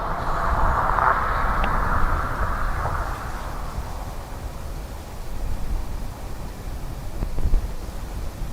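A Ryanair airliner arriving from Faro at Dublin Airport, heard as a steady, loud broadband roar with a whooshing jet tone that eases off after a few seconds and leaves a lingering rumble and wind noise.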